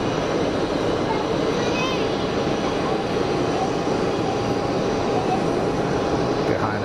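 A Boeing 777 at Geneva Airport gives off a continuous broad jet rumble with a faint high whine, steady and fairly loud, with someone talking quietly over it.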